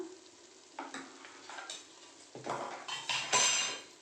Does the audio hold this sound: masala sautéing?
yes